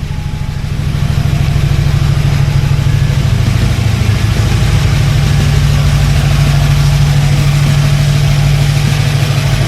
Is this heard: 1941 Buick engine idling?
yes